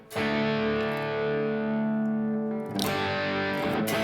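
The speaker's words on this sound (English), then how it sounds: "So I increase the distortion with an overdrive, and the overdrive is the SD1, super distortion." Electric guitar played as a crunch tone through an SD1 Super Distortion overdrive into a Marshall JCM800 amp plug-in, a sustained distorted chord ringing loud and alone, then a fresh strum near the end.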